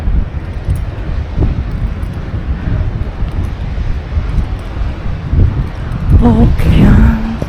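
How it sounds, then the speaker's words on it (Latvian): Wind buffets the microphone in a continuous rumbling rush on the ocean coast at Câmara de Lobos, with a short stretch of voices near the end. "Oh, tas mums vējiņš pūš."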